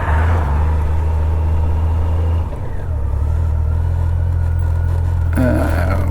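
A car approaches and passes close by, its engine swelling and its pitch sweeping as it goes past, over the steady idle of a 1997 Honda Goldwing GL1500SE motorcycle.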